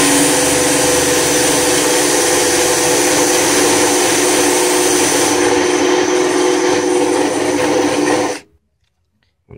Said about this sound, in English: first I'm gonna grind off the paint.